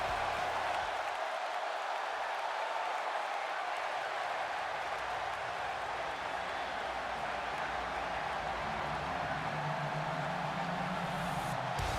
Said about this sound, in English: A sold-out crowd here in Los Angeles, California